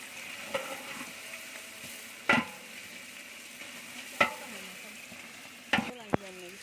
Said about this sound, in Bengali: ভাজা ভাজা হয়ে গেছে, ব্রাউন কালার হয়ে আসছে।